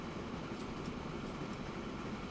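A passenger train in Transport Fever 2 slowing near a station: a steady, low rumbling roll, faint and continuous, with no distinct clatter or horn.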